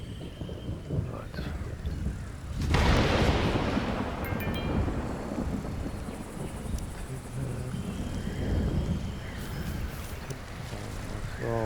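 Thunder rolls through a storm in the video game Stranded: Alien Dawn, a sudden loud crack followed by long rumbling and rain-like hiss, with a voice speaking briefly over it.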